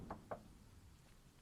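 Two quick knocks on a door in a horror adventure game, faint and spaced apart, followed by a quiet background with no talking.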